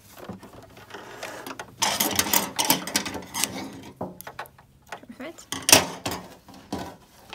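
A sewing machine back-stitches along the edge of a fabric face mask, with bursts of close mechanical whirring and clatter that start and stop several times.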